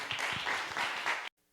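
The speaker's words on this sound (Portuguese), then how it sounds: "Aplauda o Senhor Jesus" Church congregation applauding together, a dense wash of clapping that holds steady for over a second, then cuts off abruptly into near silence.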